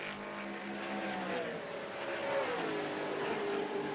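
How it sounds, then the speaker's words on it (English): NASCAR Canada Series race cars at Canadian Tire Motorsport Park scream down the Mario Andretti straightaway, a steady, rising engine whine that swells as the cars pass, with no talk on top. "You can hear the cars sing down the Mario Andretti straightaway"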